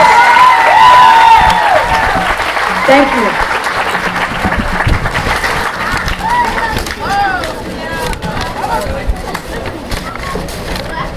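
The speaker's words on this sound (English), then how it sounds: "let's give these students a round of applause" Sustained applause from a school audience for fourth-grade students, steady and loud throughout, with voices and a brief spoken thanks over the clapping.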